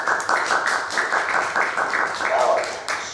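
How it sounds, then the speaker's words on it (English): Hands clapping in steady, fast applause that runs the whole time at an even, moderate level, with no one speaking. "Then clap your hands for yourself so that the show starts."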